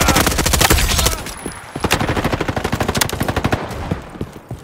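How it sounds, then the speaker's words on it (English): Rapid automatic gunfire from a Roblox Frontlines match, loud dense bursts of shots followed by a steadier run of evenly spaced rounds after a short pause. "where are they shooting from?"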